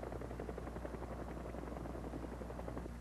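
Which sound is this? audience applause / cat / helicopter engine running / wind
helicopter engine running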